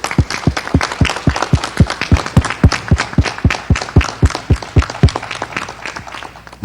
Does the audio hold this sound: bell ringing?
no